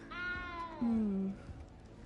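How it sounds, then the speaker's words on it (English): A cat in the Hogwarts Legacy video game gives a single clear meow, rising then drawn out into a lower, longer wail, close and distinct over faint game ambience. "good luck finding that cat"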